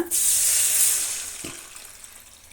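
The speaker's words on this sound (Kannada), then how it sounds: "ಈಗ ಇದಕ್ಕೆ ನೀರನ್ನು ನಾವು ಹಾಕೋಣ" Water poured from a jug into a pan while oil brinjal curry is being cooked, a short close rush of pouring with a dull splash that fades to a faint trickle.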